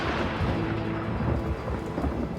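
Thunderstorm over a small patch of desert, with steady loud rain hissing and thunder rumbling low throughout, a dense continuous wash of sound with no voices.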